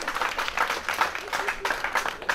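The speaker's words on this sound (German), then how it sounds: "nochmal dicken Applaus und Glückwunsch hier" An audience applauding World Games 2017 athletes, dense rhythmic clapping filling the whole short stretch with a few louder claps, fairly close.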